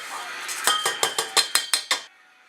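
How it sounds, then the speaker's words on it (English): Rinsed rice is dropped into a cooking pot, giving a rapid series of about eight bright, close clinks and rattles that stop suddenly. "now add your rice to a pot"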